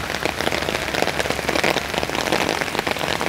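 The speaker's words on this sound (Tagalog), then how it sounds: "lakas ng ulan" Heavy rain pours steadily on a rainy afternoon, a dense, close, continuous hiss and patter of drops hitting surfaces, with no voices.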